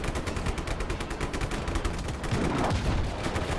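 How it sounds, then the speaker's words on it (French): Rapid gunfire from a mounted cannon in the video game Just Cause 3, a dense, steady stream of shots throughout with no pauses. "on monte dans le canon et on se fait canarder"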